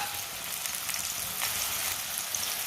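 Green chilies, garlic and finely chopped tomatoes frying in a pan with peas and eggs, a steady, close hiss of sizzling oil running evenly throughout with faint stirring.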